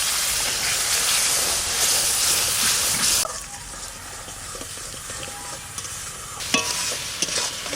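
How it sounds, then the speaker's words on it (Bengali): Loud, close sizzling of masala being stir-fried as a little water hits the hot pan for a bitter gourd curry, a hissing burst that drops sharply partway through to quieter bubbling with occasional spoon scrapes; no talk. "সামান্য একটু জল দিয়ে মশলাটাকে ভালো করে কষাবো"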